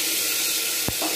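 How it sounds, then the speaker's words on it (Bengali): Potatoes sizzle in hot oil in a wok for egg biryani, a bright, steady frying hiss close up, with one brief clank of a utensil near the end. "ওই জন্য আমি এই আলুগুলো আগে এখানে দিয়ে দিচ্ছি"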